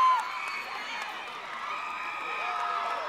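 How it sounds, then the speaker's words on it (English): A crowd at an international netball match between Antigua and Barbuda and Saint Kitts and Nevis cheers and shouts steadily at the final whistle, a dense, sustained roar of many voices with a high whistle-like tone at the very start. "And the crowd is loving it"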